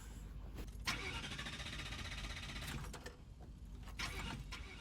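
A car engine in a TV show scene cranks and tries to start, giving a sustained grinding whir with a few sharp clunks, playing faintly at a distance.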